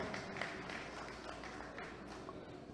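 Faint, steady applause from an audience at an international Urdu poetry gathering (mushaira), a dense continuous patter of clapping with no clear breaks.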